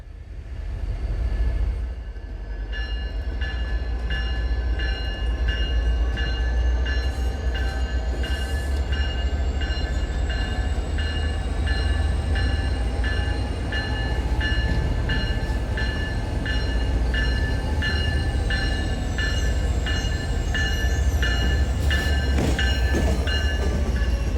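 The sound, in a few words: diesel locomotives hauling train out of South Station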